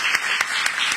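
An audience at a book presentation applauds a municipal president, a dense wash of clapping hands with a few sharper individual claps standing out, loud and close, with no talking over it.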